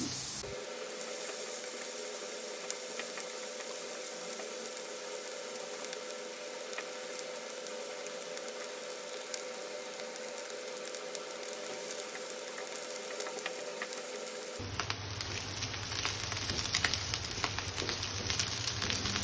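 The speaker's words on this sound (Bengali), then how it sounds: "চিংড়ি মাছগুলো কিছুটা ভাজা ভাজা হয়ে গেলে" Shrimp fry in oil with a soft, continuous sizzle over a low steady hum. Partway through, the hiss turns brighter and louder and stays strong to the end.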